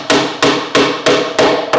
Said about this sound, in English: I'm listening for a kind of change in the tone of this dowel as it hits the other side